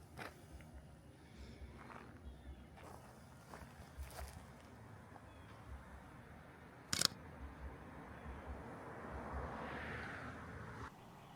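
A camera shutter fires a few sharp, isolated clicks close by, spaced apart over a quiet outdoor background hum.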